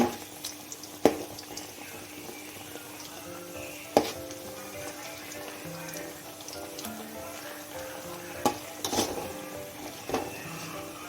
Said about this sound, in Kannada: ಹೀಗೆ ಒಂದು ಸೈಡ್ ಫ್ರೈ ಆದಾಗ ಅದನ್ನು ತಿರುಗಿಸಿ ಎರಡು ಸೈಡ್ ಸಹ ಫ್ರೈ ಮಾಡ್ಕೊಳ್ಳಿ